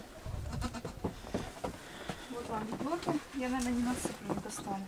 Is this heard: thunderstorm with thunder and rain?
no